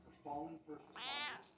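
An old female cat, recently at the veterinarian, gives a couple of soft, low meows and then a longer, higher, drawn-out meow, faint and close-by in a quiet room.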